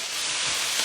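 Damp broccoli sizzles in hot oil in a pan, giving a brief, steady hiss of frying and steam heard up close with no talking.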